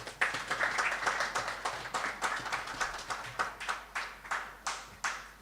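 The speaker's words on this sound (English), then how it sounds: "A round of applause again for me" A small group claps steadily at a track and field meet launch, a brisk rhythm of distinct hand claps continuing throughout, fairly quiet and without voices.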